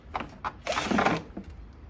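Bolts on a motorcycle top box for a Yamaha Xmax 300 scooter are tightened with a ratchet, giving a few close, quick mechanical clicks and short scraping turns.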